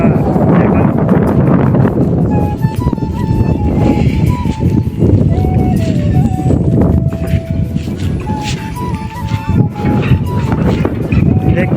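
Monsoon wind gusts across flooded fields in Tarail, Kishoreganj, producing a continuous low buffeting rumble against the microphone while someone talks over it.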